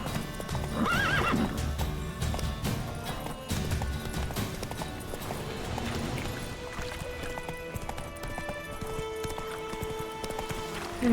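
A horse in The Witcher 3 clip-clops in rapid rhythmic hoofbeats and gives a sharp whinny, with game ambience and music underneath throughout. No one talks.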